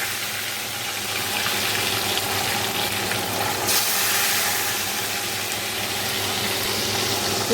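Bele fish fry in a pan with a steady, fairly loud hiss and sizzle, alongside a constant low background hum, with no voices.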